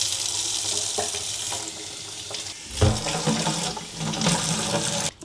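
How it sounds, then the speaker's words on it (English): Warm water runs from a tap into a car-wash bucket outdoors, a steady close rushing splash that briefly cuts out and resumes with a deeper gush, continuing unbroken without speech. "I'm making sure that I fill up my bucket before I put in the grit guard"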